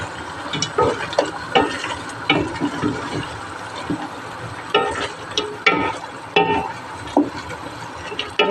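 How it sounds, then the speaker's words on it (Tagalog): Chicken frying in a pan for sweet and sour chicken, stirred with repeated scraping and clattering strokes over a steady sizzle, close and fairly loud, with no talk. "Lagyan na po natin ang ating chicken. Ito po ang aking chicken. Yan. Haluin po natin."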